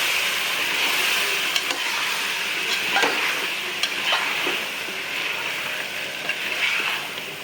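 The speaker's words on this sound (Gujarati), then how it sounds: "ચાલો બધું મિક્સ કરી નાખીએ." Vegetables cooking in spiced masala are stirred in a pan, giving a steady sizzle and frying hiss with soft scraping clinks from the spoon scattered throughout, with no talking.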